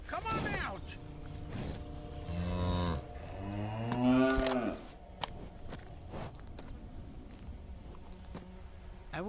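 Cows on a farm moo several times in quick succession, loud and close, with long drawn-out calls overlapping, followed by quieter shuffling movement and a sharp click.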